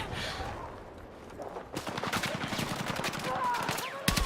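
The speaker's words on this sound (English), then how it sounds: "He's just shooting into that bunker." Gunfire in a Counter-Strike match at the BLAST Bounty 2025 finals, rapid rifle bursts as a player shoots into a bunker, close and rattling, with voices talking over it.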